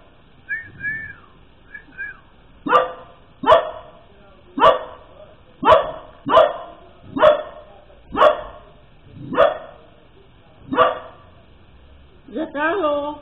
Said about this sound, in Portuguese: Não cansa de latir?